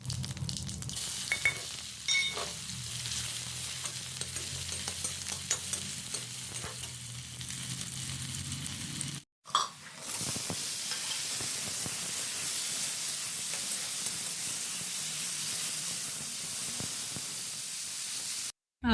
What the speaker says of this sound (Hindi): यहाँ पे मैं बरी जो होती है उसकी, उड़द की, उसे तल रही हूँ।